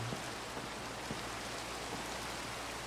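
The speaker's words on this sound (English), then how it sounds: "It's raining. It's pouring." A rainstorm inside a horror video game: a steady, dense hiss of heavy rain pouring on surfaces, continuous and fairly loud, with no voices over it.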